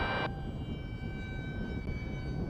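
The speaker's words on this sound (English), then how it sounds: "the motor is a real screamer" An Esky Eagle 1100mm trainer RC airplane's motor and propeller scream steadily overhead in flight, a sustained high-pitched whine with tonal harmonics over wind rumble, briefly louder and brighter at the very start.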